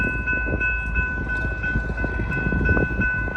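A freight train approaches a level crossing that was once protected only by crossbucks, giving a steady rolling rumble with a sustained horn-like tone, while gusty wind buffets the microphone throughout.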